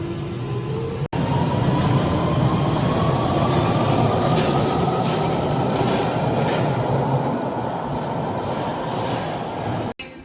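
A London Underground Northern Line tube train heard on the platform, a loud continuous rumble of rolling wheels with a rising whine from the motors as it moves close by, with no talking.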